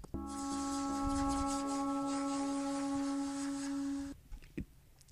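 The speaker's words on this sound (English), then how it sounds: "It's a really ambient kind of atmospheric effect." A sustained ambient synth pad, the Astral Signs patch from Absynth 4, holds steady tones under a breathy, airy layer for about four seconds before cutting off and leaving faint decaying traces, for a drum and bass intro.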